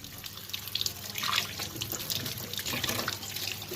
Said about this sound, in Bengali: এবার মাছটা আমি ভালোভাবে ধুয়ে নিই